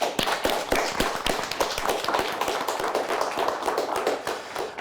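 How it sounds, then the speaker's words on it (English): A studio audience applauds the champions of a televised high school quiz contest, with dense, continuous clapping of many hands, fairly close and even, lasting about five seconds with no talk over it. "Congratulations to you and a nice round of applause."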